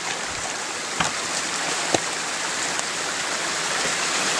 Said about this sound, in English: But the water flows just this way.